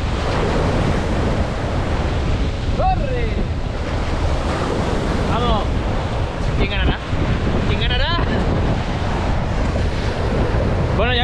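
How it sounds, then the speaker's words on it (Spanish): Strong wind buffets the microphone on a beach during surfcasting, with constant roaring gusts mixed with crashing surf and a few faint, brief voice-like sounds in between. "hace mucho viento"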